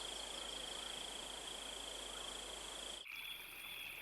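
Mantella frogs in Madagascar make a dense, steady chorus of high-pitched trilling calls that runs continuously. The chorus sounds faint and wraps around the listener, shifting in tone near the end.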